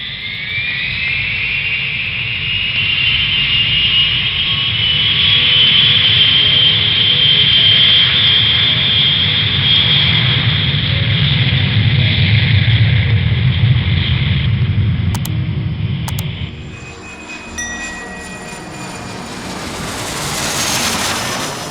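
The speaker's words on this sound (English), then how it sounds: "the plane takes off from Taipei" Jet airliner taking off from Taipei at night, a loud sustained engine roar with a high whine rising over it, swelling steadily and then dropping away toward the end.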